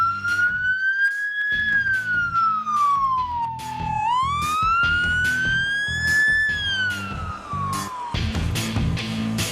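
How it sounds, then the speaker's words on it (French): Police siren speaker on a Dodge Charger wailing loudly, its tone sweeping slowly up and down in a long cycle over a rumbling engine and background clatter, with no speech. "un haut-parleur de sirène pour faire du bruit"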